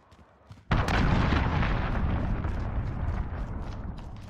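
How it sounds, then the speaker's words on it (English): Cruise missile strike in Call of Duty: Modern Warfare, a sharp loud impact after a quiet moment, then a sustained heavy rumbling roar of explosion and debris that slowly tapers. "Allied cruise missile away."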